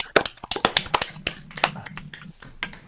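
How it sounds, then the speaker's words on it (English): A small group clapping at a virtual open mic after a song: a few scattered, uneven claps with sharp transients early on, thinning into lighter sporadic taps, fairly close and modest in volume. "We were clapping."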